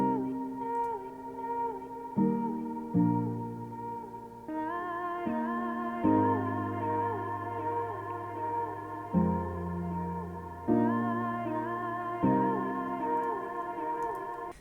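A slow atmospheric synth pad moves through sustained chords, softened by a high-cut filter and trailing into echo and reverb, playing alone at a gentle level.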